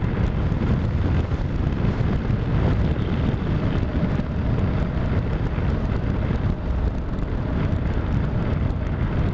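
Strong wind buffets the microphone on a summer ride outdoors, a constant loud low roar and rumble that runs through the whole stretch without letting up.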